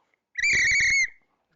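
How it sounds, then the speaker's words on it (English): A Titanic officer's whistle gives one loud, shrill, steady blast of about 0.7 seconds, close by, with a slight warble, and the room is quiet before and after it. "This is one of the officers' whistles."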